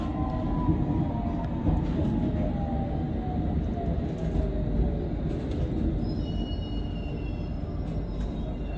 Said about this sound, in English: 387-138 coming in from Heathrow Terminal 5